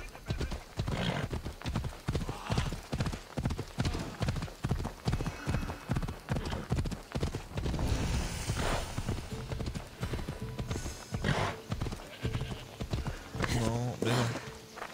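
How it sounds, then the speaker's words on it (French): Horse hooves clip-clop at a steady galloping rhythm in Assassin's Creed Odyssey, close and loud throughout, with a whinny near the end. Game music and a French-speaking player's talk run underneath. "Comment on galope avec ce cheval de mort là?"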